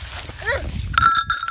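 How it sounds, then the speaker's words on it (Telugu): Goats on a farm, one wearing a bell, with a bright ringing bell tone clanging repeatedly in the second half over low rustling and a brief bleat-like call before it. "భలే ఉన్నాయి మరి మేకలు"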